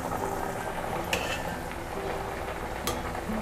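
A spoon stirring a simmering Telugu dappalam stew with pumpkin and onion: soft bubbling and wet scraping in the pot with a couple of brief utensil clinks, close and without speech.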